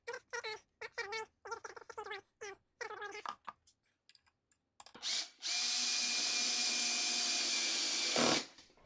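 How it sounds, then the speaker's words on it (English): A shop vacuum at a woodworking cross cut sled starts up after a stretch of talking and a few short tool sounds, then roars steadily and loudly for several seconds before cutting off. "It's always nice to have the vacuum right here."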